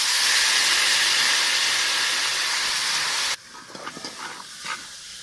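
Vinegar pours into a chickpea pickle as a steady, loud hissing stream for about three seconds, then cuts off abruptly, leaving faint scattered clinks and rustles.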